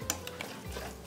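A spoon quietly scrapes and stirs vegan, gluten-free fudgy brownie batter in a bowl, with soft intermittent clicks over about a second.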